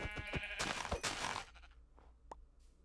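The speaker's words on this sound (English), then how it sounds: "Let's go kill that sheep because we're gonna need the wool." Several rapid bleats come from a sheep in the video game Minecraft. They are close and fairly loud over the first second and a half, then give way to a few quieter clicks and a brief tone.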